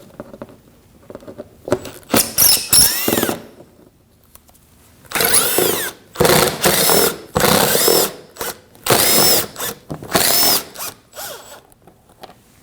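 A power tool driving out screws from a panel on a 2015-2024 Ford Edge: repeated loud whirring bursts of one to two seconds, separated by short pauses, close up with no talk.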